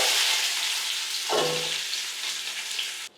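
Whole cut onions frying in oil for biryani: a steady, loud, close hiss of sizzling oil that continues throughout and cuts off abruptly near the end.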